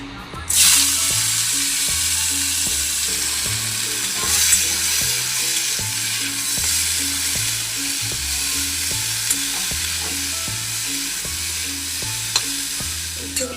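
Bitter gourd sizzles in oil in a wok with a loud, constant crackling fry, while a regular low rhythmic hum pulses beneath it the whole time.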